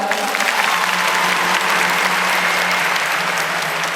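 A student audience at a university freshman welcome gathering in Ubon Ratchathani applauds. The clapping is steady and dense throughout, loud and close, with a faint crowd murmur underneath.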